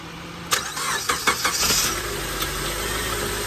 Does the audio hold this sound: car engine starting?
yes